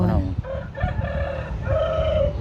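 A rooster crows nearby, loud and close, its drawn-out, wavering calls repeating across a couple of seconds over a busy rural background.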